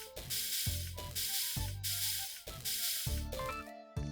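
Welding machinery on a factory assembly line in the video game Kaizen: A Factory Story, loud repeating mechanical cycles of ratcheting clanks and hissing bursts in a regular rhythm, with no talking.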